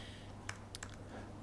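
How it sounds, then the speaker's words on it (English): Typing on a computer keyboard while entering a spreadsheet formula, a few light quick key clicks, faint and close, spaced unevenly in a quiet room. "What you would do is that you would type norm"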